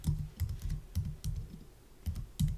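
Quiet, close keyboard typing in short bursts of clicks with brief pauses, soft and steady with no talking.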